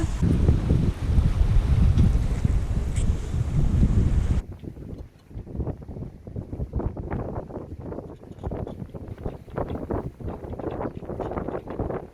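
Strong wind of about 14-15 knots buffets the microphone aboard a sailboat on open water, roaring loudly at first, then easing into gusty rushing with water slapping against the hull.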